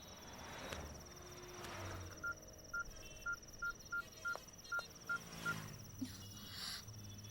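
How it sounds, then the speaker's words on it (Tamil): A phone number being dialled, heard as a string of about nine quick, evenly spaced beeps that are soft and fairly close, with a faint steady background hiss behind them. "நீ வித்யாக்கு ஃபோன் பண்ண."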